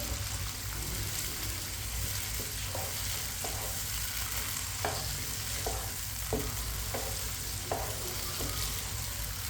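Peas and chopped carrots stir-fried in a hot pan, a steady close sizzle with a spoon scraping and stirring at irregular intervals, no voices.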